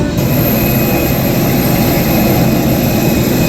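A loud, steady jet engine roar fills the cabin of a private Sri Lankan airline's colourful passenger plane on the flight from Sri Lanka to Chennai, an unbroken broadband rumble with no voices.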